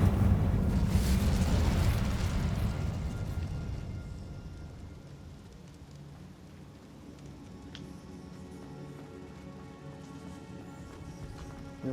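Incendio fire spell cast in Hogwarts Legacy, a loud roaring burst of flame that swells at once, then fades into a lower crackling rumble with scattered pops.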